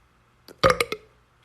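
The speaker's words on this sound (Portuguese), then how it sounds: "eu acabei de arrotar" A single short, close burp with a few guttural pulses, loud against near silence, with no speech around it.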